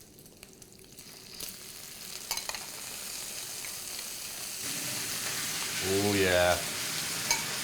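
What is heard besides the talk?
bacon and prawns frying in a pan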